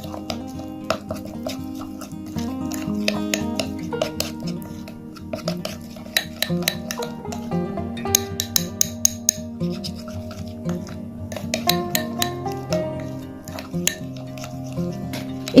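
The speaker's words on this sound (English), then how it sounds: "Now mix well the ingredients like so." Milk powder and basil paste mixed in a bowl with a spoon, quick clinking and scraping taps against the bowl in uneven bursts, close and clear with no talk over them.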